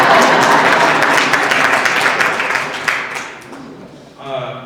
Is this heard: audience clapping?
yes